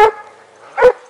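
A dog barks twice outdoors, two loud sharp barks about three-quarters of a second apart with a faint tonal ring between them.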